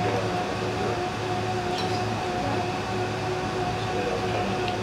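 Blender running in the background of a cafe, a steady, even whirring drone with a faint whine held throughout, fairly quiet and with no talking.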